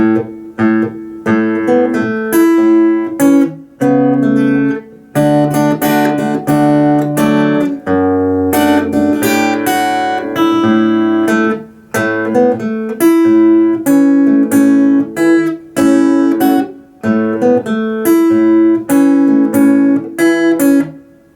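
Acoustic guitar picked fingerstyle, a repeating pattern of plucked notes and chords, played alone at a steady, moderate pace with brief pauses between phrases.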